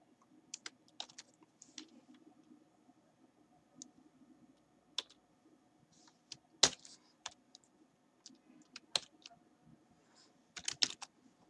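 Scattered computer keyboard keystrokes while R code is entered, irregular taps and clicks with short bursts and pauses, fairly close but soft against a quiet room hum, no voice.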